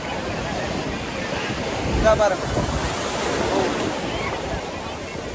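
Rough sea surf washing onto a rocky shore, a steady broad roar of breaking waves with gusty wind noise on the microphone, while a person speaks briefly over it.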